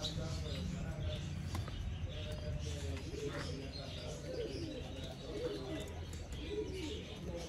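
Soft cooing and chirping from Sialkoti pigeons over a steady noisy background, with faint voices talking in the distance.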